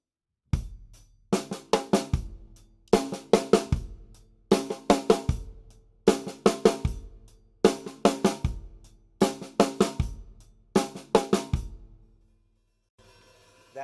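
A snare drum plays a flam five-stroke roll rudiment, repeated as several crisp, closely spaced bursts of strokes with accented flams, close and clear, ending in a pause with no voice.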